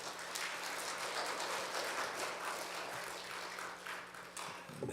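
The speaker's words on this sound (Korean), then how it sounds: "박수로 환영해 주시면 감사하겠습니다." A church congregation applauds to welcome a pastor at a New Year early-morning prayer service, a soft, distant, continuous patter of clapping lasting several seconds.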